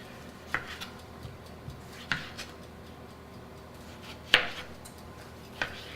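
A knife dicing tomatoes on a cutting board, a few scattered, fairly faint taps and knocks spaced irregularly against a quiet room background.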